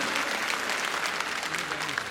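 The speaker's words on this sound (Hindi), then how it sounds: "वो यहाँ पर एक बार तालियों के साथ आप उसका स्वागत कीजिए।" Loud, dense crowd applause at the Shravan Dham Mahotsav festival welcoming a guest, continuous clapping filling the whole moment with voices mixed in.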